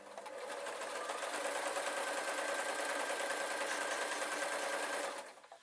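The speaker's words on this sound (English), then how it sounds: "I'm going to take the two ends when I get there and just sew upwards." A sewing machine stitches a dwarf hat, a steady fast mechanical whir running continuously and close for about five seconds before stopping abruptly.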